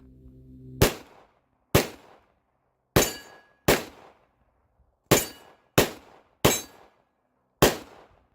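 Eight sharp, loud pistol shots at uneven intervals, each with a short decaying echo, from a Glock 48 or Sig P365 firing 124 grain hollow points.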